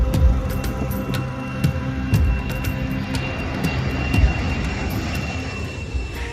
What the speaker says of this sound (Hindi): विमान 8000 किलोमीटर से भी ज्यादा लंबी उड़ान भरते हुए भारत के लिए निकल पड़ा